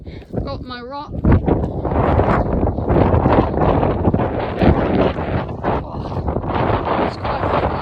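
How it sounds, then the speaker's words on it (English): Strong wind buffets the microphone on an open fell top in the Lake District, roaring in loud uneven gusts, with a brief voice near the start. "it's quite windy here."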